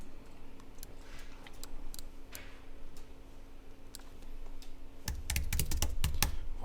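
Someone types on a computer keyboard while working on headings in InDesign, making scattered quiet key clicks that turn into a quick, louder burst of taps near the end, with no talk.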